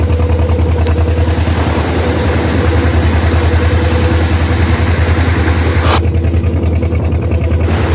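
Fishing boat engines drone loudly and continuously as the boats head back in bad weather, a close, steady low rumble with a brief higher burst near the end.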